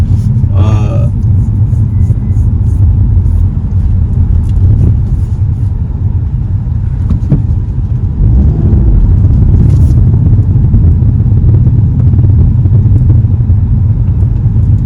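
A 2023 Volkswagen Golf GTI 40th Anniversary Edition is driven, with a loud, constant low engine and road rumble from inside the cabin and a voice briefly heard over it.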